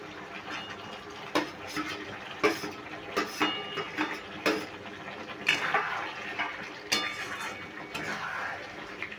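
Fried pointed gourd pieces go into a cooking pan of fish curry base, giving a series of sharp clattering knocks and scrapes spaced a second or so apart over a soft, steady background hiss.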